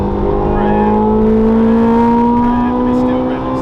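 A Ferrari 430 Scuderia's naturally aspirated engine revs out loud and close in second gear, its tone climbing smoothly and continuously without a break.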